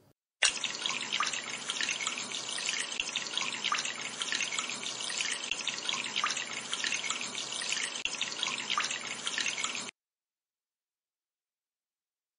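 Steady broadband rush of shower water running in a prom party doll makeover mobile game, loud and continuous for about nine seconds before cutting off into silence, no talking.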